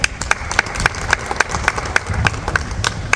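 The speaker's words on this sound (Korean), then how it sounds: "박수로 모시겠습니다." A small crowd at an outdoor press conference in Iksan claps to welcome the next speaker, loud, close and uneven, with individual sharp claps standing out in a brisk, irregular rhythm.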